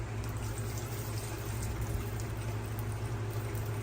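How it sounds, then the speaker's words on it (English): Water drains steadily out of a tray of live sphagnum moss grown for Nepenthes seedlings, a continuous even pouring and trickling rush close by, with no talk over it. "Look at all that water coming out of there."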